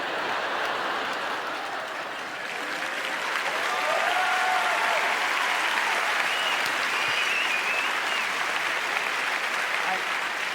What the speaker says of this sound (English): Please, it's not worth any amount of applause.